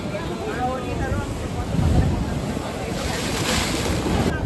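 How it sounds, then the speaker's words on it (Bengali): Heavy sea waves surge and wash beside the Dwarkadhish temple at Dwarka in a continuous, rolling roar, with strong wind buffeting the microphone. "জাস্ট ফাটাফাটি ঢেউ।"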